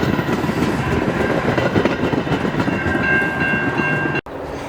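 A passenger train roars past close by at Mundelein station, a loud continuous rumble and rattle of wheels with a high tonal whine, ending abruptly.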